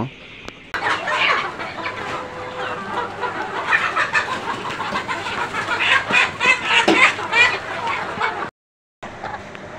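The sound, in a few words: chickens clucking while being caught for beak trimming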